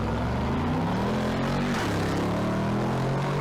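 A Mercedes-AMG G63 engine drones loudly and continuously, its low rumbling tone shifting slightly in pitch as it revs, close up with no talking.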